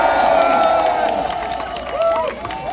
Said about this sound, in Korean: 우리 김문수 후보님께 다시 한번 감사의 박수 한번 보내시기 바랍니다